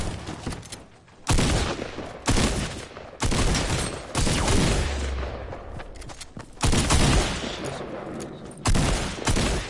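Heavy bursts of gunfire in a shooter video game, loud sustained volleys separated by brief lulls, with no talking over them.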